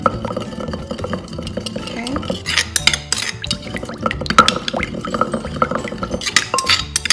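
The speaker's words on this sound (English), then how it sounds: "I'm gonna mix that in really well with all the ingredients" Stirring ingredients into a baked egg mixture in a bowl gives loud, close scraping and clinking of a utensil against the dish, with a dense irregular rhythm of strokes and faint wet sounds and no talking.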